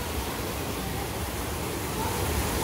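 Strong artificial waterfall at an aqua park spa in Rakvere, Estonia, a steady, dense rush of falling water that holds at the same loudness throughout, with no talking over it.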